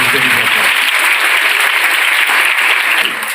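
An audience applauds the Rotary Club at a school gathering: dense, steady clapping from many hands, loud and continuous for the whole stretch, easing slightly only at the very end.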